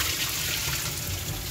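Pond filter media from a koi pond rinsed under running water, a steady close wash of splashing flow throughout the short moment.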